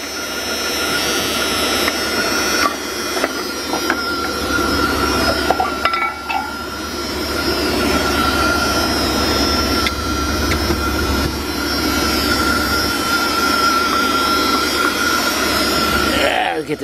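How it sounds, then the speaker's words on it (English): Idling engine of a 2000 Dodge Ram B1500 van with an air leak, a loud continuous whooshing hiss over a steady low rumble, heard up close with occasional faint clinks. "I definitely hear an air leak somewhere."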